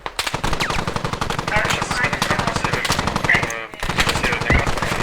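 Sustained rapid machine gun fire in the military shooter game Squad, loud and close, with long continuous bursts and a brief pause, voices faintly mixed underneath.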